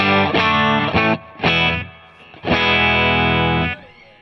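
Electric guitar run through a tube fuzz pedal with amp reverb, playing thick distorted bursts: three short stabs followed by a long sustained chord that rings out, loud and close, with no talking.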